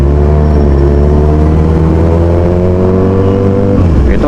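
A Kawasaki Z1000R motorcycle engine, freshly maintained and fitted with a new tyre, revs steadily with smooth harmonic tones. It sounds loud and close, then shifts briefly near the end, with no talking.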